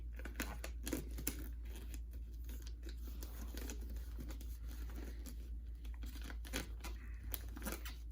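Tape crinkles and tears with soft patter and rustling while a package is being wrapped, close and faint, a steady run of small crackles and pulls with low hum beneath.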